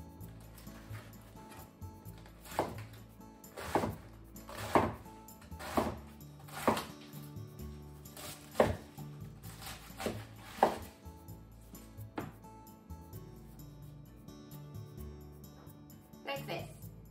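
A knife chops cabbage into large pieces on a cutting board, with sharp, regularly spaced cuts about once a second, close and distinct, while a quiet voice talks in the background.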